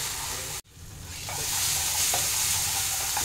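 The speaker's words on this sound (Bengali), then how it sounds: "এটা আমি একটু ভেজে নেব, তেল ছাড়া অবধি ভেজে নেব, যেন কড়াই থেকে তেল ছেড়ে যায় সেই হিসেবে ভেজে নেব।" Spice paste for hilsa malaikari fries in an oiled wok (kadai), giving a steady, close sizzle with scraping stirs and a brief cut-off early on, and no talk.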